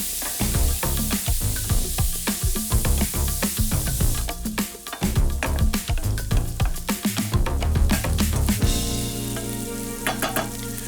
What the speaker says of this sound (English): Mirepoix, the base of all cooking, into a pan with bacon rendering out